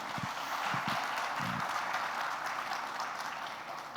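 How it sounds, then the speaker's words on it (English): Audience applause for a speaker at the Ideas of India Summit, a dense, steady wash of clapping that holds loud and even from start to finish with no voices on top. "I paused to let them clap properly"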